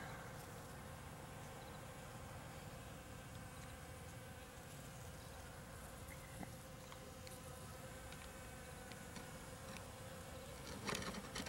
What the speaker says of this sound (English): look who showed up. We have a green bee.